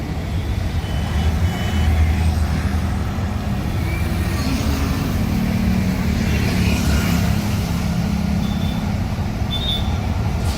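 Dense, heavy road traffic near a flyover in Madhya Kailash fills the air with a constant loud rumble of trucks, buses and cars. Faint beeps and honks rise briefly above the engine drone.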